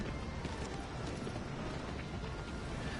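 Horse hooves gallop steadily in the video game Shadow of the Colossus, a continuous rumbling clip-clop of fairly quiet footfalls under a dense noisy background.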